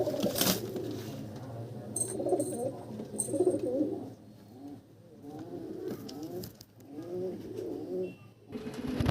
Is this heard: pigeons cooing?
yes